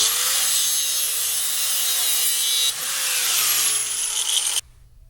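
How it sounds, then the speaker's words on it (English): An angle grinder cuts through an old steel emergency brake cable on a 1992-1997 Ford truck with a loud, sustained, high-pitched grinding whine. The pitch shifts midway, and the sound cuts off sharply near the end, leaving a faint hum. "I'm just going to cut through the cable with a grinder."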